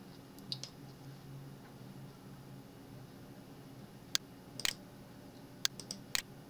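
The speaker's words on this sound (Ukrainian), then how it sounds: "натискаючи клавішу P на клавіатурі" A computer keyboard key is pressed a few times, giving soft, sharp clicks heard close up in a quiet room, spread out over a few seconds.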